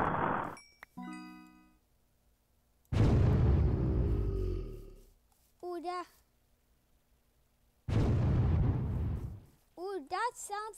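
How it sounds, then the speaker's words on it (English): Two big roaring TNT blasts in a video game with a long rumbling tail, separated by quieter chimes and clinks, plus a voice talking briefly. "that sounds like an explosion, a TNT explosion in real life"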